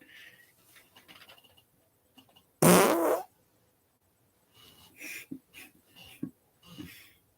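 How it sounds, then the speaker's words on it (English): A single loud fart bursts out for under a second amid quiet room sounds, followed by faint shuffling and soft murmurs. "I got to fart."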